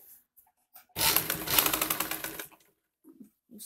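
Sewing machine stitching a high-neck Chinese collar, one loud close burst of rapid stitching lasting about a second and a half, with quiet handling sounds before and after.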